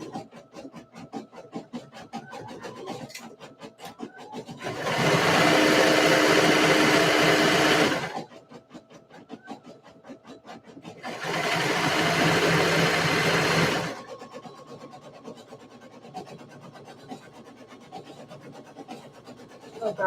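A sewing machine stitches in two sustained loud runs of about three seconds each, with quieter rhythmic handling noises between and around them.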